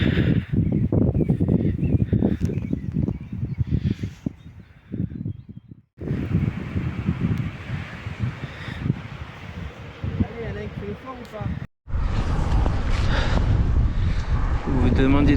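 Strong wind buffets the microphone while cycling in Denmark, in loud, rumbling gusts, with brief drops to near silence between bursts.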